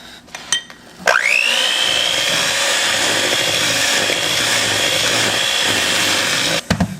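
An electric mixer whirls cookie batter with an egg and vanilla extract in a bowl, starting with a rising whine and then running at a steady, fairly loud hum for several seconds before stopping.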